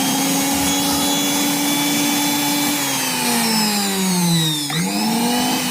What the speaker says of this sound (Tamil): இந்த மிக்சி மோட்டருக்கு பவர் கொடுத்து செக் பண்ணிடலாங்க